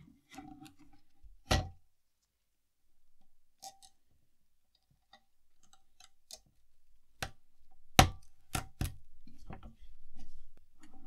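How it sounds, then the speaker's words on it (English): Sharp, isolated clicks and snaps as a RIOT chip is pulled from and pressed into a socket on an Atari 2600 mainboard, one loud snap early then a cluster of four close clicks later, otherwise quiet with faint handling noise. "use my chip pullers and pull out the old bad chip and put in the new one"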